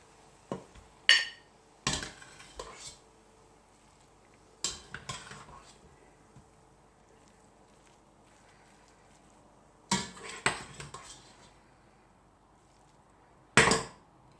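A spoon scrapes and clinks against a pan while carrot halwa is served out, giving sharp, separate metallic knocks in short clusters with quiet gaps between them and no talking.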